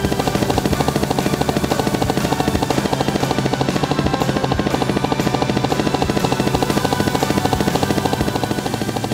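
A cartoon toy helicopter hovers with a rapid, even chop of rotor beats, loud, close and unbroken for about nine seconds, with no voices over it.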